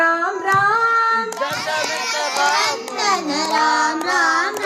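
An audience claps along to the Rama Rama devotional song at a Carnatic music concert, the hand claps soft and partly buried beneath strong sung vocals that carry the melody throughout.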